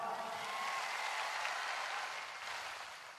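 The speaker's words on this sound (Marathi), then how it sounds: "त्यांच्यासाठी एकदा टाळ्या वाजा." A large crowd at a Maratha political rally applauds, a faint, distant wash of steady clapping that tapers slightly toward the end.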